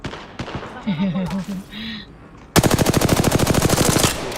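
Rapid automatic gunfire from the Apex Legends video game, a loud sustained burst of evenly spaced shots after a quieter stretch with voice-like tones and game sounds; no real talk under the burst.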